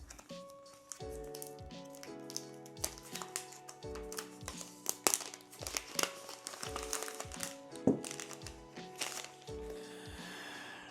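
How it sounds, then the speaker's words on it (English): Crinkly plastic packaging being pulled off a Boox Palma e-reader, a close series of irregular crackles and rustles building in density, over a soft musical backdrop. "get this thing unwrapped."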